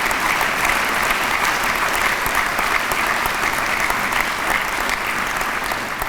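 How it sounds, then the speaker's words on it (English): A convocation audience gives a steady round of applause, a loud, dense wash of clapping from many hands that holds evenly for about six seconds. "Would you give all those individuals a round of applause?"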